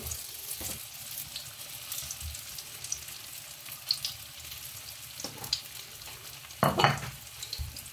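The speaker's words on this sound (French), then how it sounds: "je vais y déposer mon petit tofu. Comme ça, on va le faire colorer." Tofu fries in a pan for a tofu sauté with shrimp, giving a faint, even sizzle with scattered soft utensil clicks and one brief louder scrape near the end.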